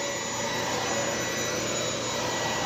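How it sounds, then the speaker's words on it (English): A Dibea D008 Pro cordless stick vacuum running at max suction, a loud steady high-pitched whine and airflow rush held throughout with no pauses. "let's try it with the max function on, with the max suction on"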